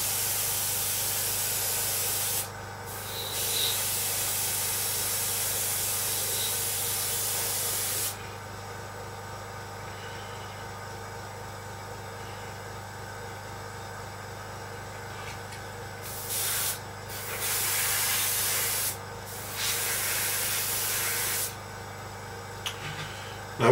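Varnish is sprayed as a flat coat onto a Seafire scale model, heard as several bursts of steady airbrush hiss of varying length, separated by pauses of quieter background hum.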